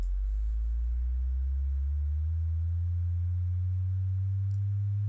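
A pure sine test tone slowly rising from a very low hum to a somewhat higher pitch over about five seconds, steady and alone without talk.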